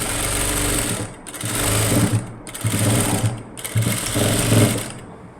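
Sewing machine stitching a folded churidar hem, a loud close rapid mechanical whirr running in four bursts separated by short pauses.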